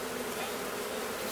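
Honeybees fan and buzz at a disturbed hive, giving off a dense, steady droning hum that stays close and unbroken with no voices.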